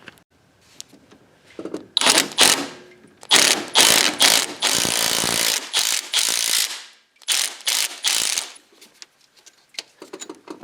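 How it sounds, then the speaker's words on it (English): Ratcheting wrench loosening the alternator pinch bolt and adjuster on a Toyota 3MZ-FE 3.3L V6, a close, loud run of rapid clicking bursts with short pauses between strokes. "So then we will loosen up that pinch bolt and then the adjuster to loosen the belt next."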